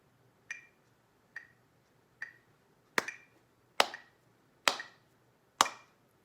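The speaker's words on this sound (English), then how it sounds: "I'm going to clap this one with you, okay? Because this is a clapping exercise." Hands clap a slow rhythm exercise along with a metronome set at 70, producing seven sharp, evenly spaced claps. The first few are softer and the later ones ring louder in a quiet room, with no talking.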